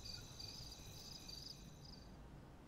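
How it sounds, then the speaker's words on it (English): Crickets chirp steadily in a quiet night scene in the video game Life Is Strange, a faint high trilling that pulses in bursts over low ambient hum, with no other sounds. "We can hear the crickets."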